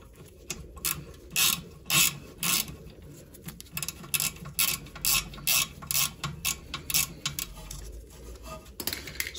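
A spanner works a bolt loose on a Honda Jazz rear brake caliper, giving a series of close, sharp metallic clicks and ratcheting taps in an uneven rhythm over a faint background.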